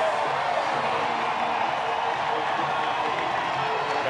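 A baseball stadium crowd of over 31,000 roars and cheers after a walk-off home run, a dense, loud, sustained wall of cheering and whoops with no break.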